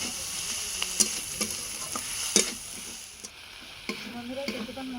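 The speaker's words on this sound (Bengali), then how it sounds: "এবারে ভালোভাবে মশলা আমি কষে নেব" Spices for ghugni fry in a pan, with a soft sizzle and scattered sharp scraping clicks as they are stirred and cooked down, moderately close and with no one talking.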